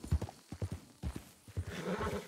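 Hooves of a horse clip-clopping on the ground in Red Dead Redemption 2, a quick run of distinct, evenly spaced thuds that loosen into a noisier shuffle near the end, with no talk.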